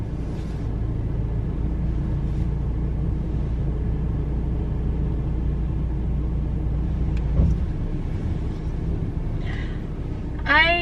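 A car engine idles with a steady, low rumble inside the cabin while the vehicle is being parked in reverse, continuous and close. A brief chime sounds near the end.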